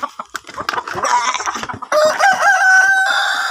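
Hungry breeder chickens on a farm cluck and crow loudly as feed is brought, with a rooster's drawn-out crow rising over busy overlapping clucking from the flock.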